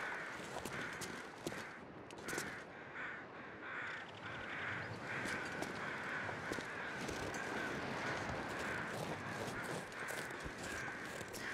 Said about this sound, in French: on entend des corbeaux